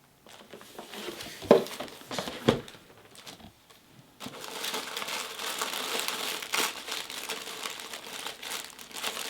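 Tissue paper wrapping around makeup brushes being unfolded, with a couple of sharp crinkles early on, then a steady, dense rustle and crumple that carries on close by with no talk.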